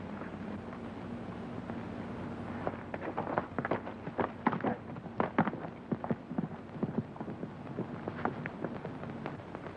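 Horses' hooves clip-clop at a steady trot in an old 1937 western film, irregular hollow clops over a constant hiss of background noise, fairly faint and with no talk.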